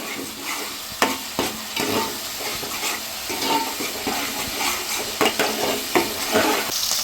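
Spice paste with curry leaves frying in a pan for a fish curry, stirred steadily with scraping strokes over a continuous close sizzle, with a few sharper clinks of the spoon against the pan.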